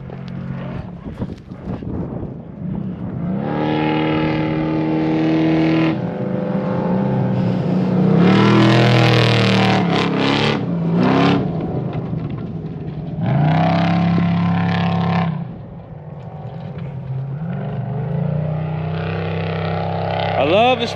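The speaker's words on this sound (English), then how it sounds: "the spec trophy truck class. So I expect that we should have some of these guys coming a little bit." Spec-class trophy trucks roar past at an off-road desert race, engines swelling and fading in several loud passes over about twenty seconds, with people talking underneath.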